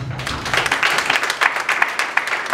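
Audience applause at a spoken-word festival show, a dense burst of many hands clapping that swells after a brief pause and holds steady, loud and close, with scattered distinct claps standing out.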